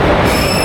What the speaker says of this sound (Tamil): இந்த இங்கே ஒரு ட்ரெயின் வருது